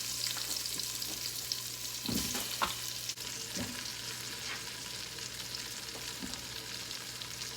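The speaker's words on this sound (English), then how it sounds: "start tossing in your potatoes, as well as the white part of your green onions" Potatoes and the white parts of green onions tumbling into a hot pot of rendered bacon fat, a steady sizzle with a few soft thuds and stirring scrapes, no voices.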